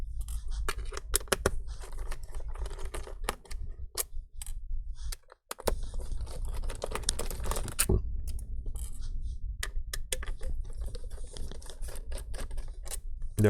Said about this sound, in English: use a Phillips screwdriver, just a regular PH1. Remove the screws.